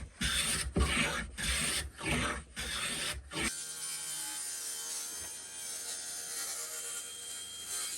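Hand sawing of wooden trim pieces for a cutting board: four or five loud, rhythmic rasping strokes close up, then the cutting stops and a quieter hiss and faint scraping remain.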